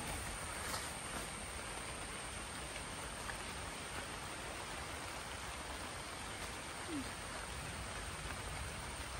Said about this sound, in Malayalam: നല്ല മഴ പെയ്യുന്നുണ്ട്.